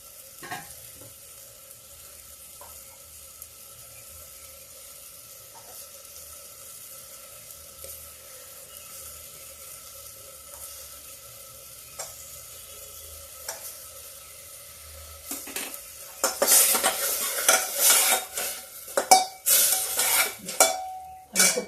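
Tomato goes into a cooking masala in a pan, faint low sizzling for a long stretch before loud stirring, clattering and vigorous frying bursts near the end, no talking.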